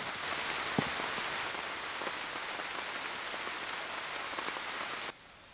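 Steady rain patters on a military emergency poncho shelter, a dense close hiss with a few heavier individual drops, then abruptly drops to a quieter wash near the end.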